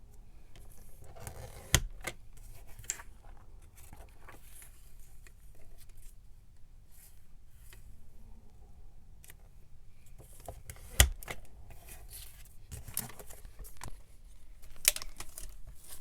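Paper pieces for pressed flower specimen cards are snipped with scissors: quiet, sparse cuts and rustles at close range, with a few sharper clicks standing out against a near-silent background.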